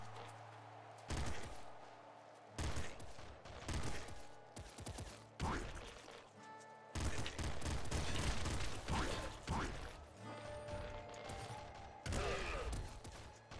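Rapid video-game gunfire from Nuclear Throne comes in repeated bursts and volleys with short gaps between them, sharp and dense, with occasional quiet talk in the background.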